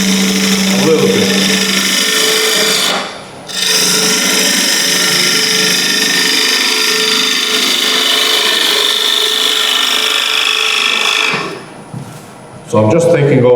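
A gouge takes bulk timber off a piece spinning on a wood lathe, producing a loud, continuous tearing and shaving roar. It breaks off briefly twice as the tool lifts away.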